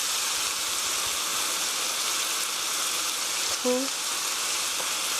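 Soy sauce sizzling in a hot pan with mushrooms, a loud, steady hissing fry that runs throughout, with a brief spoken word partway through.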